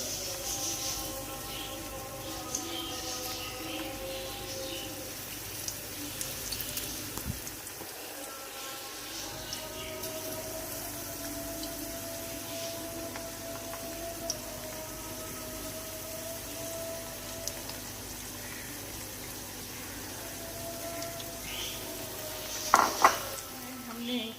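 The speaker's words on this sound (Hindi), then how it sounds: "हमारा ऑयल गर्म हो गया है। अब हम इसमें ये बेसन की पकौड़ियाँ जो हैं ये टिक्कियाँ बनाएंगे।" Gram flour pakoras sizzle steadily in hot oil for kadhi, a soft continuous frying hiss with occasional utensil clinks and scrapes, and a brief louder clatter near the end.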